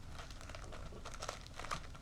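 Paper crinkling and rustling while a MacBook Pro 16 is unboxed, a steady close crinkle lasting about two seconds, with a few slightly sharper crackles near the end.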